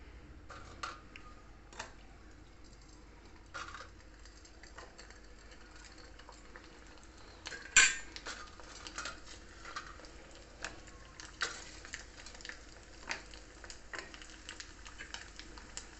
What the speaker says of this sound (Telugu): నేను ఒక 4-5 వేయిస్తున్నాను.